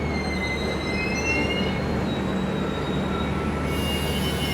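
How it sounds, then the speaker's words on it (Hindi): The Yesvantpur-Gaya Express hauled by a WAG-9 electric locomotive rolling past, a steady loud rumble of wheels with high squealing tones throughout, near and continuous with no voices. "यहाँ आ चुकी है KGM वैग 9 के साथ यशवंतपुर गया एक्सप्रेस।"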